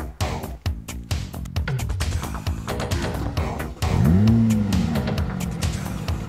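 A really fast car accelerates hard, its engine revving up and rising in pitch, loud and close, over a busy mix of other sound early on.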